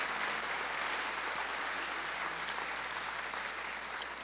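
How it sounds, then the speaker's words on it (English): A church congregation at an English-language service claps together in a sustained round of applause, steady and fairly even, fading a little at the end. "How about giving the Lord a big clap offering if you are blessed?"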